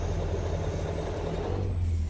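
A heavy truck engine in American Truck Simulator drones steadily with a low rumble, a faint rising turbo whine running over it, and no voices.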